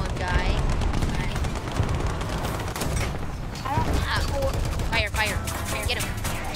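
Gunfire in the War Thunder video game: dense, rapid bursts of machine-gun and cannon fire that crackle steadily throughout, mixed with players talking over the noise.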